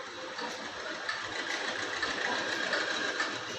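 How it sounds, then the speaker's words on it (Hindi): A tractor engine runs steadily with a fast, buzzing mechanical chatter, a constant mid-loud drone without pauses or revving. "इतने में फेंगूलाल ट्रैक्टर लेकर घर आया।"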